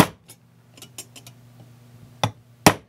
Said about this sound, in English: I'm going to take the center punch and